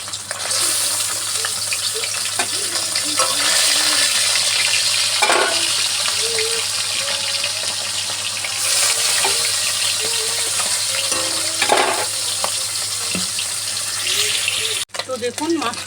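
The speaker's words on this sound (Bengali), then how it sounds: "এইভাবে লাল লাল করে মাছটা ভেজে নিতে হবে।" Bata fish frying in hot oil gives a continuous loud sizzle and crackle, with occasional utensil clinks and faint movement in a home kitchen.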